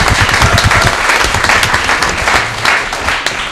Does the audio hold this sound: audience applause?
yes